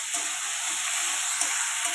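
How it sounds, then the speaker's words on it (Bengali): Whole green chillies and salt fry in hot oil for chira pulao, giving a continuous close, even sizzle with faint stirring underneath. "এটা একটু ভালো করে ভেজে নেব।"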